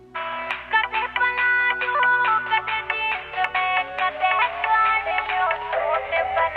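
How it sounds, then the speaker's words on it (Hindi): A phone ringtone plays a bright, repeating electronic melody, steady and fairly close, with no voices over it. "ले फोन सुनियो किसका।"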